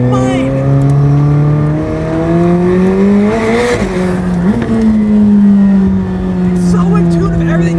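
A McLaren 765LT Spider supercar accelerates hard, its engine note rising in steady pitch sweeps through the gears, loud and close throughout, with a brief shift blip midway.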